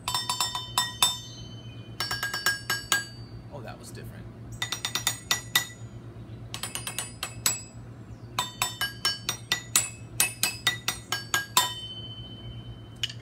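Metal measuring cups in four sizes (one cup, half, third and quarter cup) struck in quick bursts of bright clinking taps, each cluster ringing with a different pitch over a steady low hum, with a brief spoken remark.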